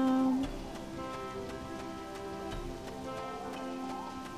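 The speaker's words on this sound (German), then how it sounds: "Ich genieße gerade die Musik und den Regen." Steady soft rain patters in the Harvest Moon farming game, a gentle hiss running beneath melodic background music with no talk.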